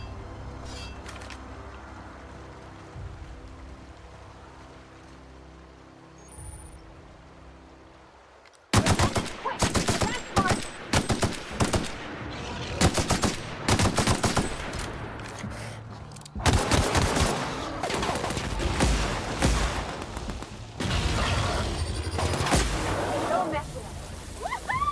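Gunfire in The Outer Worlds: after a quiet stretch, dense bursts of rapid shots and automatic fire erupt close and loud, repeating in clusters through the rest of the clip.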